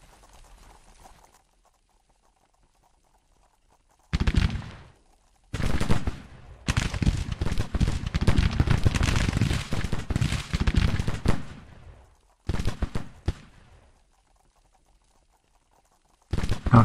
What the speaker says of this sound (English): This artillery will also engage.